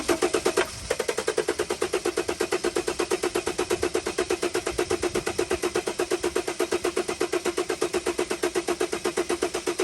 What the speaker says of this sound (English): And crank the engine for 10 seconds.